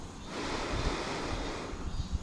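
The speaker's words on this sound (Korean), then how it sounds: "바람 많이 불어서 시원하긴 한데 자대 뒤집히겠습니다" Strong wind gusting across an outdoor freshwater fishing spot, a steady loud roar of buffeting wind noise on the microphone throughout, with occasional heavier low thumps from gusts and no talking.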